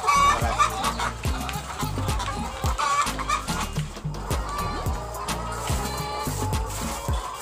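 Hens cluck in a dense, overlapping chorus at a laying-hen farm, steady and close throughout with scattered sharper calls and no talk over it.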